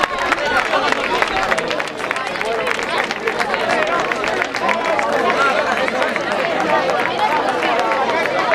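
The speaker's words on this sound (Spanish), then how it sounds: "Venga, un aplauso para Chapela." Applause rises for the Chapela crew at a youth women's rowing regatta (batel boats). Dense, steady clapping mixed with crowd chatter runs throughout, loud and close.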